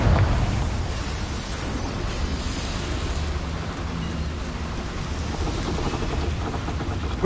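Confringo fire-blasting spell going off inside a small mine in Hogwarts Legacy, a burst at the start followed by a steady, loud, crackling roar of broadband noise that fills the rest of the moment.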